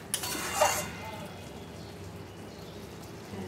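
A metal lid lifted off a kadai where dal and pointed gourd are boiling, a short bright clink and scrape near the start, then a quiet steady simmer with a faint voice.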